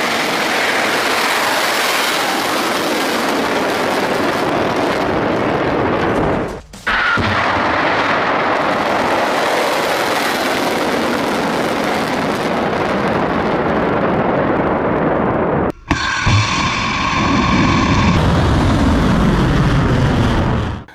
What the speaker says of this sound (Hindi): देखिए किस तरह से मिसाइल जो है वो परवान चढ़ रहा है